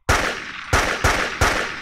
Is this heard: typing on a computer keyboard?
no